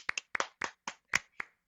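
Seven separate hand claps in an uneven, sparse rhythm, each a sharp close slap with a quick decay and short gaps of quiet between them, no voices.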